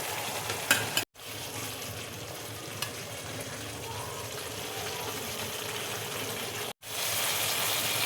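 Potatoes frying in a pan for cabbage kofta, stirred with a steady sizzle and scraping, close and moderately loud; two brief dropouts break the sound.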